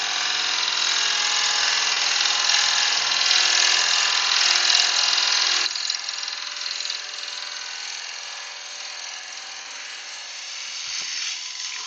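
A machine in an Acorn Box setup runs steadily at around 1000 RPM, a constant mechanical whine and hum that drops a little in level partway through as the speed is turned down, with no talk.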